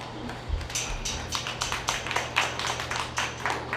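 Applause from a county fair crowd around a show ring, a steady patter of claps spread across the moment at moderate loudness with a low hum beneath.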